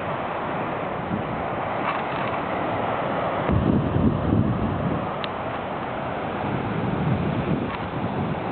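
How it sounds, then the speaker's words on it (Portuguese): Rough sea waves beating against the rocks at Praia Cabo do Mundo, a continuous rushing roar with surges of heavier crashing, mixed with wind buffeting the microphone. "As ondas batem nas rochas."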